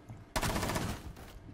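A sudden burst of rapid automatic gunfire in Rainbow Six Siege cracks out, loud and continuous, then trails off to quiet within about a second.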